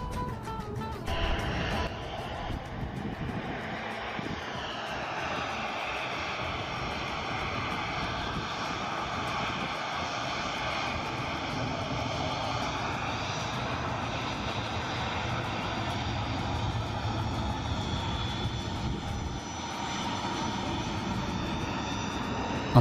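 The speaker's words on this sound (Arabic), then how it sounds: "هاي عم تنزل الطيارة." An airliner comes in to land at Manchester Airport, its engines giving a steady, sustained roar heard from the ground nearby that stays fairly even for the whole stretch, with no talking.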